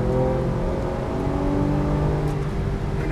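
A 2012 Porsche 991 Carrera S accelerates out of a turn, its engine a steady, loud drone with a slight rise in pitch, heard close and alone without talk.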